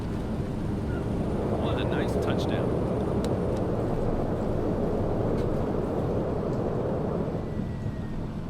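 A Pilatus PC-12 turboprop in Microsoft Flight Simulator 2020 drones with a loud, steady broadband engine roar as the throttles are pulled back on approach to Tandil, Argentina, with brief faint tones over the top.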